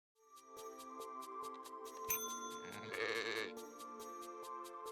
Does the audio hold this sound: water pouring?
no